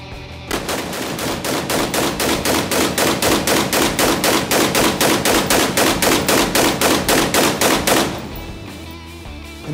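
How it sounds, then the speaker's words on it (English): A long rapid string of evenly spaced rifle shots from a direct-impingement rifle converted to piston operation at a shooting range, loud and close, about thirty cracks in quick rhythm before stopping abruptly. "We took our newly converted DI to piston rifle to the range again, firing another 240 rounds."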